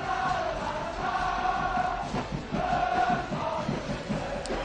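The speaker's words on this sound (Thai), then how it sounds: "กองเชียร์ก็ได้เฮฮากันทั่วหน้าครับ" Football supporters at a Muang Thong United match against Khon Kaen FC chant and cheer together in a stadium, a rhythmic crowd roar that swells in waves with steady pulsing claps or stamps underneath.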